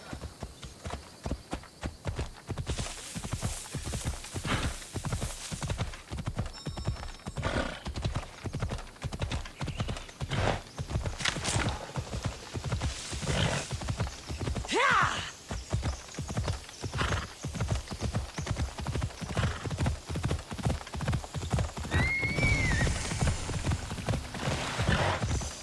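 A horse ridden in Assassin's Creed Odyssey clip-clops in a steady rhythmic gait with occasional whinnies and snorts, close and clear, with brief speech in the background.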